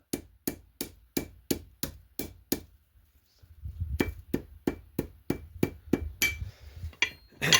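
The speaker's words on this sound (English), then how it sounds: "I'm gonna pound this end here a little bit so I can finish breaking these up" Leg tendon sinew pounded with a metal axe against a metal anvil: a steady run of sharp, ringing strikes about twice per second, a brief pause, then another close, loud series of regular blows.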